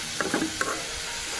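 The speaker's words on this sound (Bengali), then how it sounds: "শাক ভাজি বাগার দিয়ে ফেলছি।" Greens (shak bhaji) frying with tempering in a pan give a continuous, close hiss and sizzle, broken by a few soft stirring scrapes, with no talking.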